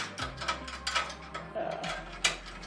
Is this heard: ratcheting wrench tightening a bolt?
yes